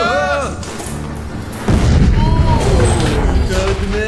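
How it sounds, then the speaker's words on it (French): A smoke bomb goes off in a video game as a sudden loud pyrotechnic burst, followed by a sustained rumbling hiss, with excited voices talking over it before and after. "c'est une bombe fumigène, une explosion pyrotechnique"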